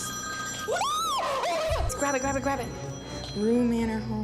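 A phone's ringtone plays in short melodic bursts indoors during a murder-mystery game, mixed with people talking over it.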